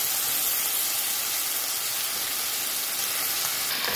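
Chicken pieces sizzle in a pan of honey and garlic sauce for Haitian honey chicken, giving a steady, close, broadband frying hiss with no pauses and no voices.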